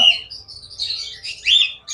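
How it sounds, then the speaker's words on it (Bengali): Several pet budgerigars squawk and chirp in a shop, giving bright, rapid, overlapping calls in bursts that swell and fade at close range, with no talk. "এখানে চারটে বদ্রি পাখি আছে"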